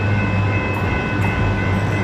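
Steady rumbling train noise with a constant low drone and a faint high whine, a continuous loud interior or passing-rail sound, without speech.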